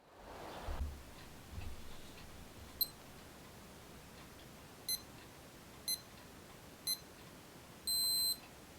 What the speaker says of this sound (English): makes the screen light up when the buzzer sounds